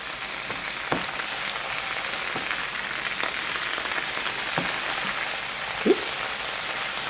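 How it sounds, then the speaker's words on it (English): Spinach sautés in coconut oil in a pan, a continuous crackling sizzle with occasional louder pops, steady and close throughout. "Now we saute the spinach"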